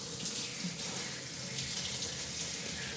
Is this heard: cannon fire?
no